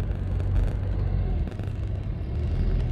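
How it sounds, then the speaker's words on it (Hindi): A car rolls up through a hospital parking area in Khobar, Saudi Arabia, its low engine rumble steady and fairly close, holding level for a few seconds with no talk over it. "सामने हमारी गाड़ी आ रही है"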